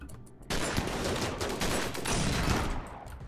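Gunfire in RimWorld A17: a dense, sustained fusillade of rapid shots bursts in abruptly and continues loudly, with overlapping volleys and no talking.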